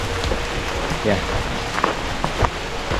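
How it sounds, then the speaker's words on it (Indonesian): Rain patters steadily on a mountain trail near bamboo in the Tangkuban Perahu–Burangrang area, with scattered drops tapping close by while a person speaks briefly. "Air yang terjun bebas dari langit."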